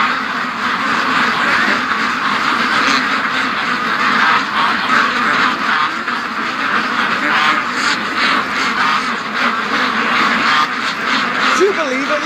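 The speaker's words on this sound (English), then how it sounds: "we got a whole bunch of ducks at the other gate being stupid." A flock of Muscovy ducks quacks steadily at a farm pen gate, many birds calling at once, close and loud, with a person talking over them at times.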